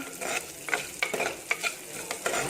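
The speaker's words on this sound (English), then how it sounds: "Next go in the onions and the curry leaves. Fry them properly." Chopped onions and curry leaves frying in mustard oil, with a soft sizzle broken by several quick stirring clicks and scrapes at close range.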